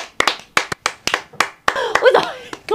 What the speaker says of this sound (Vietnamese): Cả lớp vỗ tay cho sự cố gắng của bạn nào.